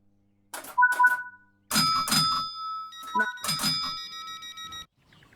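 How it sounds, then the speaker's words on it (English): Class 465 passenger doors open in Train Sim World 3 with a two-tone electronic chime, followed by a longer multi-tone beeping warning and a second chime sequence, clear and close with brief mechanical clunks. "Open the passenger doors to allow boarding."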